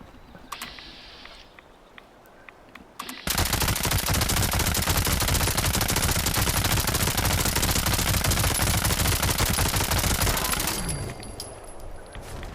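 The Behemoth gun in a video game fires one long, unbroken burst against a large enemy: rapid, loud, dense automatic fire for about eight seconds, with quieter game sounds before and after.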